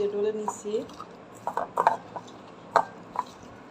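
Dried chilies, onion, green chili and salt are mashed by hand for bhorta, with scattered soft squishes and clinks of utensils against a dish, close by and intermittent over a quiet background.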